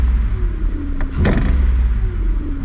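A Mazda Bravo B4000 engine that runs rough on cold starts gets a quick rev, its low rumble rising briefly and then settling back toward idle, close and loud, with no talk.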